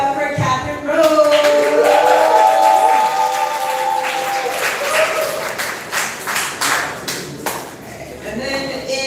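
Poetry slam audience at the Southern Fried Poetry Slam applauding and cheering loudly, steady dense clapping with whoops, a sung or shouted voice briefly rising over the crowd early on.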